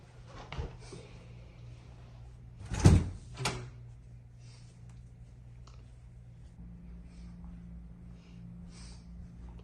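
A door in a film closes with a solid thud followed by a second bump, set against a quiet room hum, with faint faraway sounds afterward.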